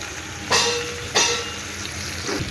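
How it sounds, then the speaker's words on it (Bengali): Hilsa from the Padma river, about a kilo, fries with onion in a pan, a constant close sizzle broken by a few sharp scraping stirs. "মাছটা আমার সুন্দর করে ভাজা হয়ে গেছে"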